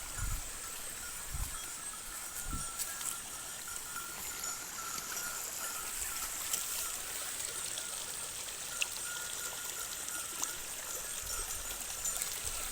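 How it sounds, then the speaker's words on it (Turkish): A garden stream flows steadily and softly, a continuous even rush of water with a few dull low thumps early on and no talking. "Mesela bakın buralarda güzel bir su akıntısı var."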